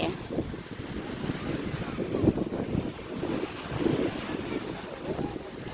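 Wind gusts across the microphone at Jomtien beach in Thailand, a steady rumbling buffet with soft surf and faint background voices underneath.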